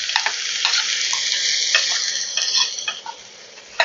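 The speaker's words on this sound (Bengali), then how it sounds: "এবারে আমি এই সবজিগুলো এখানে দিয়ে দিচ্ছি" Chopped vegetables sauté in a teaspoon of hot oil in a kadai, with a steady bright sizzle and frequent spatula scrapes and stirs, close and continuous before easing off.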